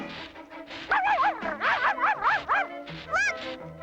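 The cartoon Puppy from The Smurfs digs in the snow, letting out a quick run of high, bouncy yips and barks, about eight in a row after a short pause, with one more yelp near the end.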